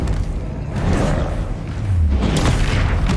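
An Expelliarmus spell strikes in Hogwarts Legacy, landing as a loud, deep boom with a rumbling low-end thud that swells again toward the end.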